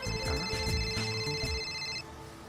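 A telephone rings unanswered, a repeating electronic ringtone pattern sounding steadily for about two seconds before it cuts off, leaving faint room tone.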